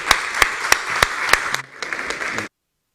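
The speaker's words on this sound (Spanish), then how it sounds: "ahora sí pido un aplauso para los tres ponentes" Audience applause for three panel speakers at a debate on digitalization and sustainability, a steady burst of many hands clapping with a few sharp, loud claps standing out, then stopping abruptly.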